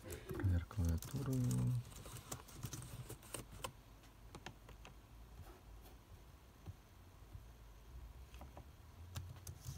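A brief burst of voice gives way to scattered clicks and taps of keyboard keys, irregular and fairly faint against a low background hum.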